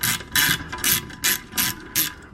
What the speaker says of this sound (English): you're just gonna tighten this down